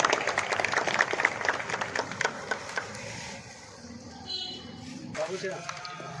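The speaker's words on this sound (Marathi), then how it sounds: "टाळ्या" Applause from a crowd at a public felicitation ceremony in Savda for Eid Milad celebrations, with Ganesh mandal officials present. Dense clapping fills the first half under a speaker's voice over a PA, then fades as talk continues.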